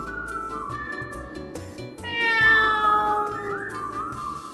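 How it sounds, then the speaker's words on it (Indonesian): A pet cat meows in a children's story episode, a drawn-out rising and falling cry that swells loud in the second half, with a few faint clicks and bumps around it. "Momo adalah kucing kesayangannya Jayanti"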